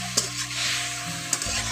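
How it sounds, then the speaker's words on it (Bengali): Cabbage and salt being stirred in a frying pan, a steady sizzle of frying running throughout with a few sharp scrape-clicks of the spoon against the pan, close and alone with no talk. "এখন লবণটা দিয়ে একসঙ্গে ভালো করে মিশিয়ে নিচ্ছি"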